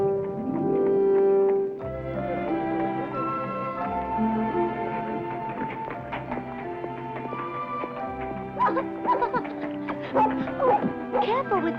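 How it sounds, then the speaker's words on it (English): A small dog yips, barks and whimpers in a 1983 film adaptation of David Copperfield, high sharp barks scattered over a long sustained musical score, with the dog's cries growing busier toward the end. "this is your dog?"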